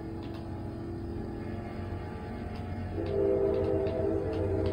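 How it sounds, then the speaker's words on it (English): A passing train in the Forza Horizon racing game gives a steady low rumble that swells and grows louder partway through, with faint horn-like tones over the rolling rail noise. "And then train about to go by."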